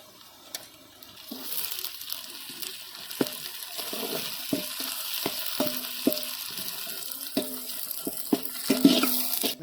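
Onions fried golden with mint and coriander for a village-style mushroom biryani, a steady close sizzle with repeated scraping stirs of a spoon against the pan.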